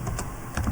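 Several quick, light keystrokes on a computer keyboard while HTML code is typed, faint and close, in a short burst.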